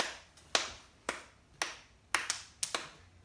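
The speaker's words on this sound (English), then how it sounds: "So let's start clapping our hands." Hands clapping during a children's skip-counting practice: seven sharp, close claps in an uneven rhythm, some coming in quick pairs, with no voices over them.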